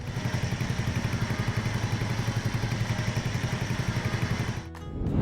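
A tractor engine in Farming Simulator 25 pulling a mower across a field, a steady low throbbing drone with a rapid regular pulse, close and continuous, dropping briefly near the end.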